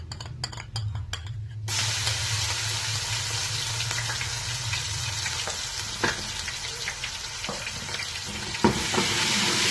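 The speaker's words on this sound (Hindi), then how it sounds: "ये मैंने 1 कप घी गर्म होने के लिए रख दी है। अभी मैं इसमें डालूंगी अदरक लहसुन पेस्ट।" Ginger garlic paste hits a cup of hot ghee and fries with a loud, steady sizzle and spatter, preceded briefly by a few stirring clinks.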